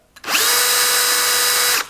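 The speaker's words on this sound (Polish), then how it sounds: "kiedy uruchomię wiertarkę" A Bosch GSR 12V-35 Professional 12-volt cordless drill-driver spins up quickly and runs at a steady high-pitched whine for about a second and a half, close and loud, then winds down as the trigger is released.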